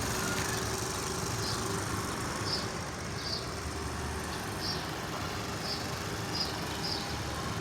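A scooter engine hums steadily as it is ridden by a learner, a constant drone with road and wind noise and a few faint high chirps over it, with no voices.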